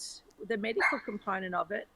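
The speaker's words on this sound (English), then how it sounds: "That's my dog." A dog barks and yips a few times close by, mixed in with a person talking during an indoor online conversation.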